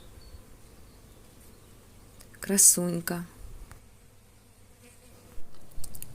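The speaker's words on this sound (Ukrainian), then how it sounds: "Люблять теж бджоли цю троянду" Bees hum softly and steadily close by around a floribunda rose in bloom. A person speaks a single short word partway through.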